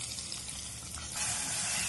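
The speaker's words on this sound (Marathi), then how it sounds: "आता इथे बघा मध्यम आकाराचा बारीक चिरलेला कांदा पण आपण टाकून घ्यायचा आहे त्यामध्ये" Finely chopped medium onion dropped into hot ghee with cumin seeds in a pan while cooking palak paneer, a soft steady sizzle that swells louder as the onion hits the fat.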